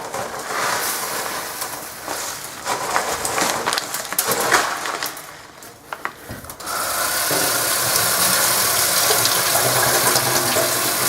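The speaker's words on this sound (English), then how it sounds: "rinse that off a little bit" Water runs and splashes steadily over reef substrate being rinsed for a nano reef aquarium. It is uneven and clattery at first, then settles into a loud, continuous gush.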